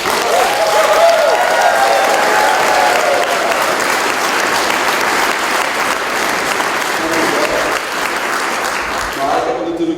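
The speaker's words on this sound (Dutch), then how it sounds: "Dus nog één keer even een heel hartelijk applaus" Sustained audience applause after an Easter passion play performance, a dense wash of clapping from a large crowd that runs steadily for about ten seconds before starting to thin out at the end.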